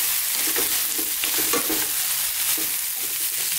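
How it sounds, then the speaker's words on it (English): Raw cauliflower tossed and frying in a pan over lively heat for cauliflower fried rice, giving a steady close sizzle broken by scraping, tossing bursts, with no talking. "let's just toss this around and fry it up a little bit."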